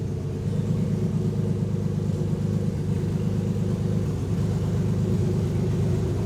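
Lexus IS300 engine idling with a misfire, a close, steady low rumble with an uneven pulsing throb throughout, no talking.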